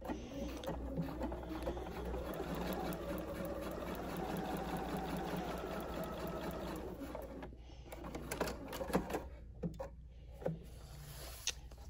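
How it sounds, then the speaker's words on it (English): Sewing machine stitching straight down a printed line on fabric for a holiday tree project, a steady close motor whir with rapid needle chatter for about seven seconds, then stopping into scattered clicks and handling noises. "You just want to stitch directly on that printed line, just straight down."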